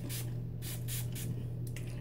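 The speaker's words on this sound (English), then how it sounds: "I actually like this spray bottle better because it's a fine mist" A fine-mist spray bottle sprays onto hair in four or five short, close hissing bursts over a low, steady background hum.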